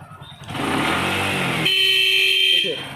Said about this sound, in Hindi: थोड़ा हॉर्न वर्क कर रहा है